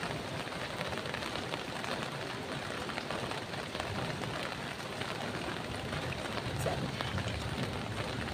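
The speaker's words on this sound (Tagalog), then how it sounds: "Ito na po ulan." Steady rain patters on a surface, a dense continuous hiss of drops with no pauses.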